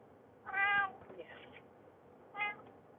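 A cat inside a car used as a living space gives two faint, quiet meows: a longer one first, then a shorter one a couple of seconds later, against near silence.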